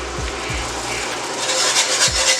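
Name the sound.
whisking beef broth into pork chop gravy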